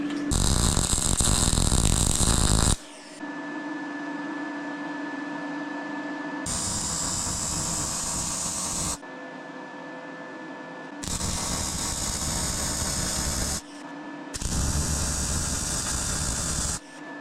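Harsh arc welding crackle like frying fat, at 18 volts and 200 amps, in several long sustained bursts separated by short pauses, loud and close with a steady hiss.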